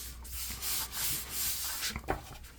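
Paper piece burnished firmly onto a wedding album spine, a steady close-up rubbing and scraping that swells and fades in strokes for about two and a half seconds, with a few sharper scuffs near the end and no talking.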